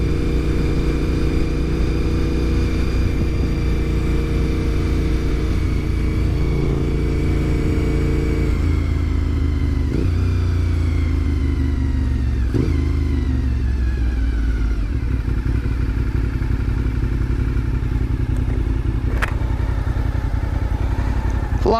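A Honda VTR 1000 SP1 V-twin sport motorcycle on the road, its steady deep engine drone close and loud throughout, with pitch shifts as the rider changes gear and the revs rise and fall.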